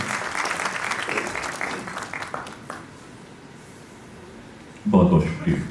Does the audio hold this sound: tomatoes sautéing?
no